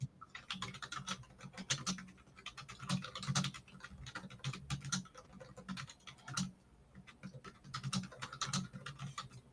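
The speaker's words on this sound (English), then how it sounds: "No, where are you typing that?" Fast typing on a computer keyboard in an office setting, a dense, continuous clatter of key presses with brief pauses, close and moderately quiet, no talking.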